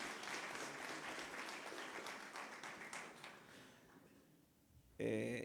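A church congregation applauds during a service, with sustained clapping that fades away before a louder voice abruptly cuts in.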